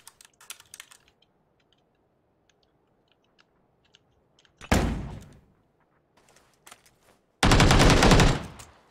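Gunfire in the battle-royale game PUBG: a sharp, loud burst rings out mid-way, then a longer sustained volley of about a second follows, with faint scattered clicks in the quiet stretch before.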